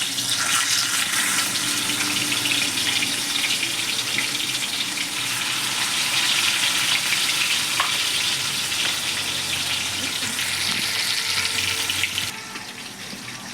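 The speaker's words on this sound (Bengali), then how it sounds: "এবার আমি একে একে মাছগুলো দিয়ে ভালো করে লাল লাল করে ভেজে নেব।" Fish pieces frying in hot oil make a loud, continuous hissing sizzle that holds steady at close range for over twelve seconds before dropping sharply softer near the end, with no one talking.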